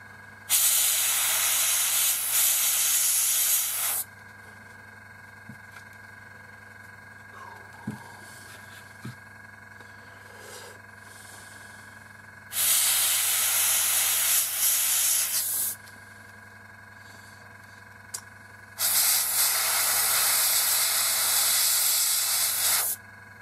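Three long bursts of airbrush spraying yellow acrylic paint thinned with Tamiya, a steady broadband hiss lasting a few seconds each, separated by quieter gaps with a low hum and a few small clicks.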